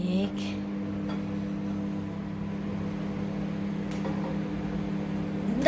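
An oven baking a rich cake gives off a low, steady electrical hum with a faint airy whir, constant and unchanging, with only a couple of soft clicks near the start.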